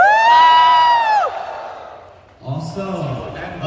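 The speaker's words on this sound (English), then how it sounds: "Can you have a cheer, guys?" Audience at a start-up conference, the BasisSoftExpo in Bangladesh, lets out one long, loud whooping cheer that fades, followed by a fresh burst of mixed shouting and cheering from the crowd.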